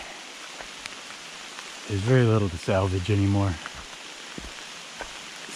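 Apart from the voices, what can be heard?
heavy rain downpour on a hiking trail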